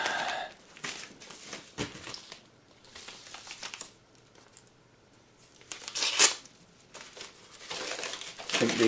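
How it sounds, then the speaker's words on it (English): Parcel packaging being unwrapped and torn open at close range, with bursts of crinkling and ripping separated by quiet pauses. "Posty's just been and got lots of stuff, so I'm going to unwrap it right in front of you."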